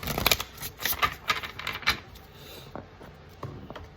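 Tarot cards are shuffled by hand in a quiet room, giving a cluster of quick, crisp riffling flicks and soft taps in the first two seconds, then a few scattered light card slaps and rustles that fade out.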